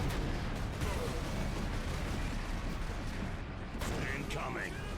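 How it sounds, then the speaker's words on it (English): Continuous rumble of gunfire and explosions in the Space Marine video game, dense and loud throughout with mechanical clatter layered in, and a brief brighter burst near the end. "Incoming fire."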